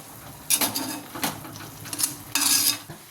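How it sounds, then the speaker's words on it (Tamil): Mudakkathan greens being sautéed in a pan for a thuvaiyal, with several bursts of spatula scraping and stirring over a light sizzle, close and moderately loud. "இந்த மாதிரி வதக்கிக்கணும் நல்லா வதக்கிக்கணும்"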